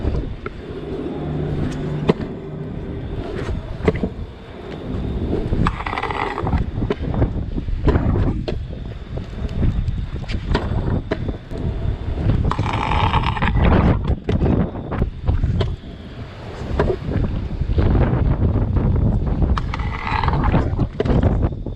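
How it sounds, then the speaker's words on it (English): Strong wind buffets the microphone outdoors beside a building, a continuous loud rumbling roar with gusty surges throughout and no clear talk. "Oh, I hate the wind. It's so bad here."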